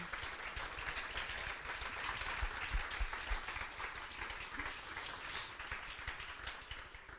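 Dense, sustained applause from a large audience, many hands clapping steadily and evenly throughout.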